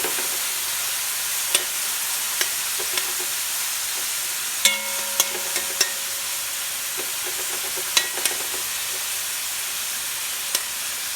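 A spoon stirring garlic, scallion, thyme and onion in a pot, the steady sizzle of frying underneath broken by a handful of sharp clinks and scrapes against the pot.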